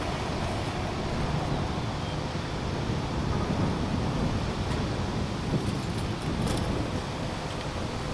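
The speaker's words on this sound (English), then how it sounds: "Wind got crazy out here." Strong wind roaring steadily outdoors at a campsite, a dense, unbroken rush with gusty swells and buffeting throughout, no voices.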